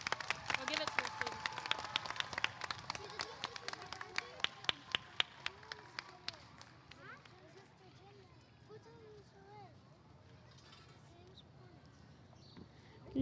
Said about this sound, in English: Let's clap for Miss McCormick.